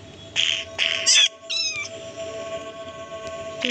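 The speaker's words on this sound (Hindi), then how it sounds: "अरे बिल्ली कहाँ पर जाएगी है?" A cat in the Crafting and Building game gives several short, close meows in quick succession, then a longer wavering cry, over a quiet background hum.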